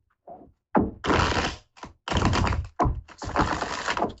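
Tarot cards riffle-shuffled in several quick bursts, crisp papery flutters separated by short pauses, close and fairly loud.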